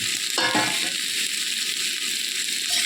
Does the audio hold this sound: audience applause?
no